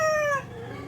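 A three-year-old Black Australorp hen, one of a flock hit by a bad cold, gives a single short, clear, tonal call up close before it fades into low background noise.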